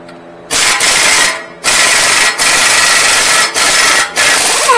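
A 35 mm socket works loose the axle nut on a Honda Pilot: several loud, raspy bursts of tool noise, each a second or so long, separated by brief quiet gaps.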